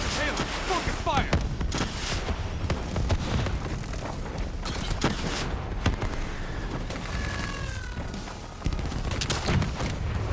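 Heavy gunfire in Call of Duty: Black Ops III, sustained rapid fusillades and booming blasts running continuously and loudly throughout, with brief shouted voices in the mix.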